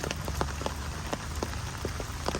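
Rain patters steadily on a vegetable garden of okra plants, some grown in containers, with scattered close drops tapping over a constant wash of falling water and no talk.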